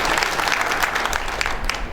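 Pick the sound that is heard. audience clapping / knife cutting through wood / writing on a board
audience clapping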